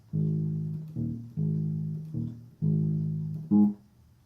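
A bass guitar plays a short phrase of round, low notes: three longer held notes, each followed by a quick pickup note, closing on a brief higher one.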